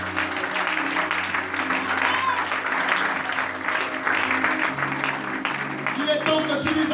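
A church congregation claps and cheers in sustained, loud applause at a worship service, with voices mixed into the clapping throughout.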